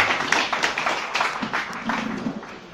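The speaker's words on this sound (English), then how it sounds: "Clap your hand for Jesus." A church congregation claps along in a fast, uneven rhythm, the many hands blending into a lively patter at moderate distance.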